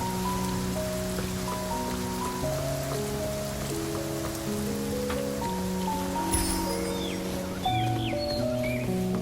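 Steady rain falling on a rainy day in the Infinity Nikki video game, a soft continuous patter under sustained background music, with a few brief brighter chirps near the end.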